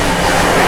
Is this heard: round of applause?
no